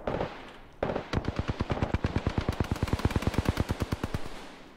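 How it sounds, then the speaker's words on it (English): Rapid automatic gunfire in the battle royale video game Apex Legends, a long, loud, evenly paced burst of sharp shots after a brief opening blast, with no talk. "Getting shot at."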